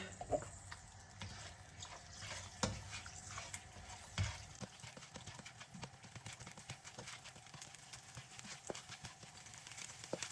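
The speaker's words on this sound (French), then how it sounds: "on va brouiller nos œufs" A metal spatula clacks and scrapes rapidly and unevenly against a wok as eggs seasoned with salt and pepper are scrambled, with a faint sizzle underneath, close and fairly loud.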